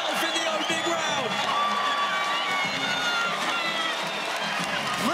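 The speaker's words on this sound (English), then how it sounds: "Listen to the crowd explode for the young champion in Tye Ruotolo" Arena crowd at the Thomas and Mack Center erupting in loud sustained cheers, whoops and applause for grappler Tye Ruotolo after his win over Jason Nolf, with a commentator's voice over the din.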